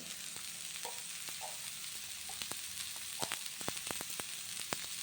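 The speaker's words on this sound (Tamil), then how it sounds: "இது நல்லா வெங்காயம் நல்லா வதங்கிட்டு" Onions sautéing in a pan give a steady close sizzle, with scattered sharp clicks and scraping taps from stirring and no voices.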